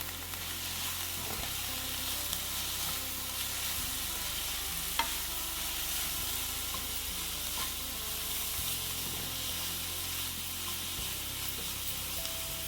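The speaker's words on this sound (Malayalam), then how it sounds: "നമുക്കിതൊന്ന് ഇളക്കി നോക്കാം." Thoran, a Kerala stir-fried vegetable dish, sizzling and frying steadily in a pan while being stirred, with a continuous close hiss and soft scraping throughout and no talk.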